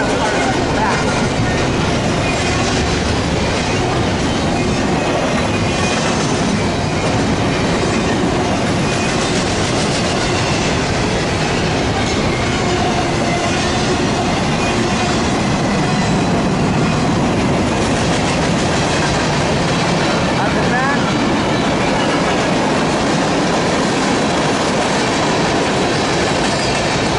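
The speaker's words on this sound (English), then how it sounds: "That westbound Z train" A westbound Z freight train passes at Daggett, a loud, continuous rumble and clatter of wheels on rail lasting the whole stretch without a break.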